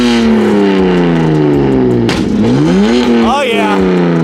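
BMW F80 M3 with a loud exhaust revving hard up close, sustained roaring engine tone rising and falling through a couple of sharp rev swings, with brief voices mixed in.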